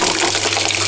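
Water gushes from a garden hose outdoors in a loud, steady, broadband rush that runs unbroken through the whole brief moment, with no voices over it.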